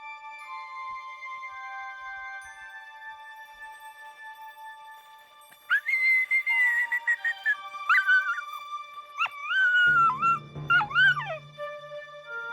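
Dogs in the Arctic whine and yip in high, wavering cries, starting after a quiet stretch, with a few short bursts and a low growl-like tone near the end.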